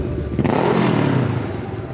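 A car engine revs sharply at an outdoor car show, one quick rising burst of throttle that swells and then fades, loud and fairly close.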